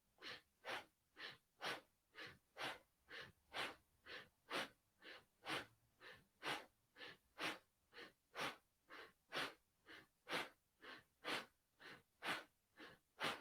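Steady yoga breathing, deep audible inhales and exhales alternating in an even rhythm about every half second, close and breathy with no talking.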